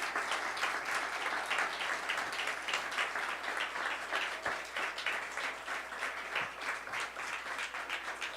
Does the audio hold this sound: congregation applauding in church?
yes